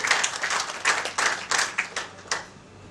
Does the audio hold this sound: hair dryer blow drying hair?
no